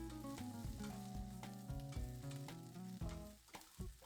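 Okra frying in a pan for a Brahmin-style bendekai gojju, stirred steadily, with a dense, continuous sizzle and scraping under a layer of tonal background music.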